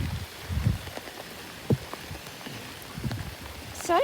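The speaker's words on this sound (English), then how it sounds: "Starting to rain rather heavily" Rain falling heavily on a flooded backyard with a chicken pen, a steady wash of patter with a few louder drops and splashes, ending in a brief rising electronic squeal.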